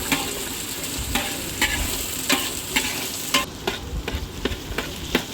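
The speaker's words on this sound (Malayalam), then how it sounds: "കുറച്ച് ഉള്ളി, കൊച്ചുള്ളി ഇട്ട് മൂപ്പിക്കണം." Sliced onions and shallots sauté in a hot pan, a soft continuous sizzle broken by a dozen sharp scrapes and clacks of a spoon stirring, close and moderately loud, with no voices.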